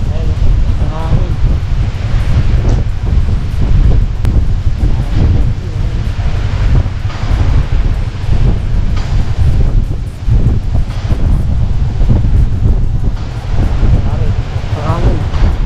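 Strong wind roars and buffets against the microphone during heavy rain on a motorcycle ride, a loud continuous rushing with gusty swells. People talk intermittently underneath.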